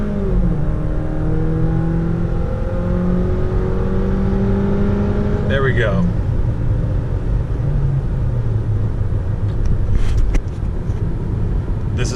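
A Jeep Renegade rental engine pulls hard from a standstill up to 65, revs climbing through several gear changes in a steady in-cabin roar, with a brief spoken remark partway.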